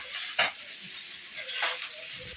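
Minced pork frying in a pan for momo filling, a steady soft sizzle with a few stirring scrapes, close and fairly quiet.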